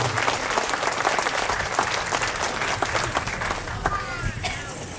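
Steady applause from a crowd at the Alameda Asian Pacific Islander Cultural Festival, dense clapping filling the whole stretch with a few louder claps and some voices mixed in.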